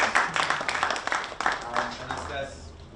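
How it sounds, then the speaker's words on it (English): Audience clapping at an International Youth Day 2023 youth café event in Rwanda: a dense, steady patter of many hands applauding for about three seconds, fairly close and moderately loud, slowly thinning toward the end. "Let's clap for him."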